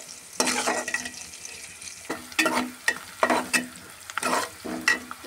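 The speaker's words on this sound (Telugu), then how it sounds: "దీనిలోనే కొంచెం ఇప్పుడు తాలింపు గింజలు అయితే వేస్తున్నాను." Onion, curry leaves, green chillies and tempering seeds sizzle in hot oil, with repeated bursts of stirring and spatula scrapes against the pan at an irregular rhythm, close and fairly loud with no talk.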